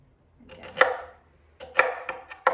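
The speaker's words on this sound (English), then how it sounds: "And then I'm just gonna make some little slices down here like that, just the size that I want." Knife slicing vegetables on a cutting board for sausage and rice soup: two short bursts of crisp, close chops and cuts separated by a quiet pause, with no talking.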